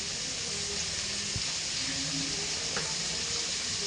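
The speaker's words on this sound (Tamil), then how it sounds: "லைட்டாக நெய் ஊற்றி" Ghee poured over a pot of chicken biryani sprinkled with coriander and mint, giving a steady soft sizzle with faint watery crackle and a couple of brief louder spits, no talking.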